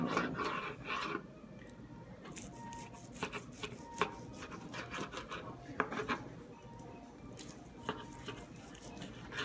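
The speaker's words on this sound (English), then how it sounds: "I'm just using a serrated type knife here." Smoked brisket being sliced with a serrated knife, a steady close rasping saw of blade through crusty bark and meat with scattered clicks and scrapes against a board, no talking.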